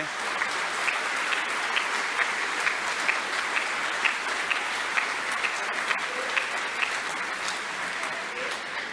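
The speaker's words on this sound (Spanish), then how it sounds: "les podemos dar un aplauso" A church congregation at Sunday Mass applauds the mothers on their day, with sustained, even clapping from many hands and scattered sharper claps standing out at a steady level across the whole stretch.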